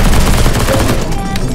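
Constant loud gunfire in a CS:GO Zombies match, dense and sustained with no clear gaps across the whole moment.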